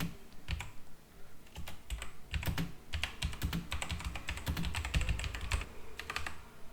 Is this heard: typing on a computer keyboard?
yes